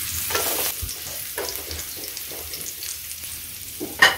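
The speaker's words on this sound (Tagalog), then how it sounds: "Maglagay ng mantika sa mainit na kawali at ikalat ito. Unahin igisa ang bawang." Garlic sautés in hot oil in a pan, giving a continuous close sizzle with soft stirring scrapes throughout and a sharper clink near the end, no talking.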